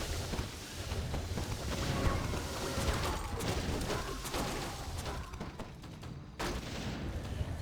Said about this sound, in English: Four mortar teams, so much damage.